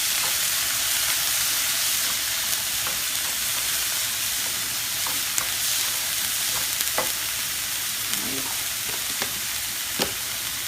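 Ginger and garlic sizzle in a hot pan with a dense, steady frying hiss, broken by occasional light clicks and scrapes of stirring.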